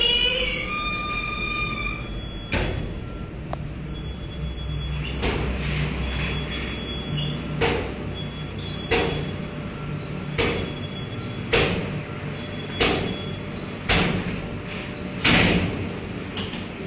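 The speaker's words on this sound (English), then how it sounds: "Strangely, the door continued to open and close, but not fully." A door repeatedly opens and closes only partway, producing a regular series of sharp knocks and bangs about every second or so, each with a brief rattle, close by in a quiet room with a low hum.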